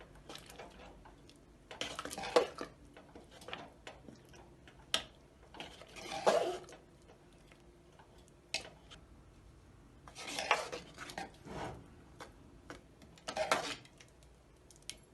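Cooked mixed lentils, including chana dal, are mashed in a pot, producing intermittent scraping and clinking of a utensil against the pot in irregular bursts, close and fairly quiet, with no voices.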